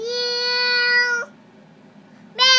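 A young child imitates a cat's meow, two drawn-out high tonal meows separated by a short quiet gap, close and clear.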